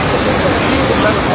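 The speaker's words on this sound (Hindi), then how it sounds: "पानी का बहाव कितना ज्यादा तेज है।" Fast-flowing canal water rushes past in a loud, steady, broadband roar that holds unbroken throughout, with no distinct splashes standing out.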